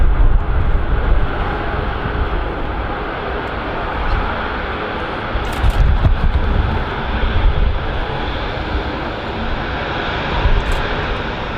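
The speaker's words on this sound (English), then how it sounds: "Another Ryanair just came in there." A Ryanair airliner arrives at Manchester Airport, its engines a loud, sustained broadband roar that swells and eases slightly as it passes, with no talk over it.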